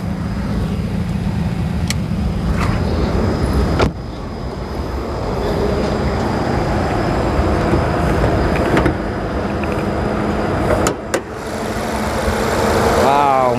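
A 2500cc SUV engine idles with a steady low hum and rumble, close and continuous, while someone speaks over it and a few sharp clicks or knocks punctuate the drone.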